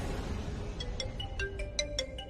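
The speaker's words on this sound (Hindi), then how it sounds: "शालू किसका फोन है" A phone rings with a repeating electronic tone in short pulses that grow stronger, heard faintly indoors over a quiet background.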